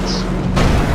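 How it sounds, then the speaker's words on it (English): A planted bomb in Wolfenstein: The New Order goes off with a loud, sudden booming burst that starts partway through and rolls on as a heavy low rumble, with game noise before it. "I'm going to plant the bomb here."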